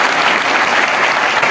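Loud, dense crowd applause at a political rally in Haryana, a continuous close roar of clapping.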